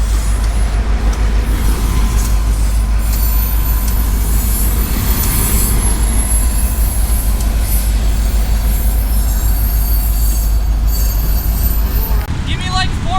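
Train rolling past on rails, a loud continuous low rumble with squealing metallic wheel noise, close by and sustained throughout, with faint talk underneath.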